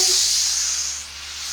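A steady, loud hiss of steam from a steam cleaner used on a vinyl plank floor, close and continuous for a moment.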